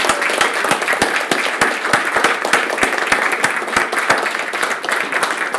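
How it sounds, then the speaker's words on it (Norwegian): A conference audience gives applause for the county council at a maritime green shipping debate, with dense, close clapping that stays steady and fairly loud throughout, no talk over it. "Så jeg synes at vi nå skal ta en liten applaus for fylkestinget"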